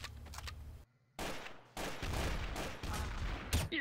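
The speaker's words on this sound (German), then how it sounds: "Chris Gold, lieber mal hier, ich knall euch ab." Rapid bursts of gunfire crackle through a loud game-like mix in Trouble in Terrorist Town, with a brief silent gap near the start before the shooting resumes continuously.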